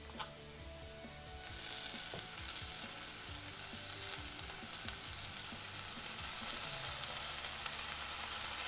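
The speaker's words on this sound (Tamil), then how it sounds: "இப்போ இதில் நம்ம வந்து நறுக்கி வச்சுருக்க கீரையை சேர்த்துடலாம்" Chopped spinach sizzles and fries in a pan with lentils, a soft steady crackle that grows fuller partway through as it is stirred, with occasional scraping clinks and no voices.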